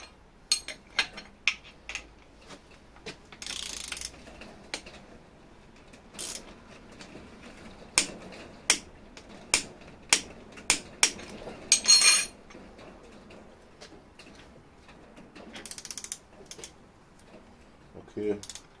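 A ratchet wrench tightening engine bolts to 50 Nm on an Opel Corsa Z12XEP/Z14XEP engine, with a series of sharp metallic clicks and clunks in short bursts, loud and close, separated by quieter pauses.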